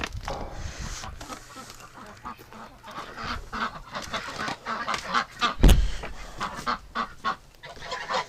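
Wintering ducks and geese kept in lockdown honk and call in a series of irregular bursts, some close and loud, one especially sharp peak, amid shuffling and movement.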